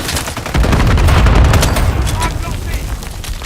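Dense, loud bursts of gunfire and booming fire from Call of Duty: Modern Warfare 3 played on PS5, continuous rapid shots under game voice chatter.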